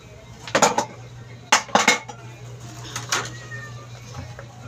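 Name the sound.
washing dishes, clinking plates and cutlery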